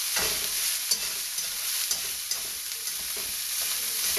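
Pork pieces and ginger stir-fried in a pan for Sichuan string beans, a steady close sizzle with the repeated scrape and knock of a utensil stirring through the meat.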